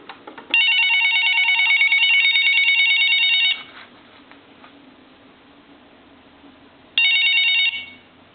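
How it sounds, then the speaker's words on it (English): Bell of a Chinese dragon telephone converted for use rings close by in a loud, rapid metallic trill for about three seconds, stops, then gives a second short burst after a pause. "And I'll go ahead and ring the phone again."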